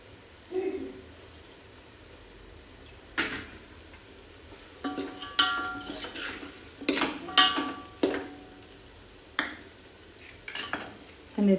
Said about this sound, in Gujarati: તો હવે આપણે તેમાં છે ને ડુંગળી નાખી દઈશું.